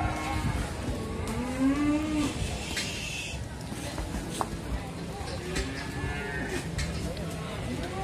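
A very large cow for sale at a livestock market gives several low, drawn-out moos, with other cattle and people talking in a busy outdoor setting.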